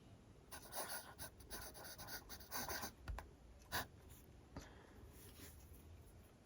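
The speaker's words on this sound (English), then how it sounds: "Right now I just get a lot of hard starts, and it's just very, very scratchy." A scratchy fountain pen nib that keeps hard-starting scrapes across paper in short, uneven strokes with small pauses between them, faint and close.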